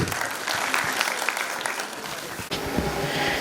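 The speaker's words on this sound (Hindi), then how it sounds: "तो एक बार जोरदार तालियां रघुवंशी सर, रघुवंशी मैम, पूरे स्टाफ और मेरे लिए भी।" Loud, dense applause from an audience at a school's annual function, steady throughout with a brief dip near the end.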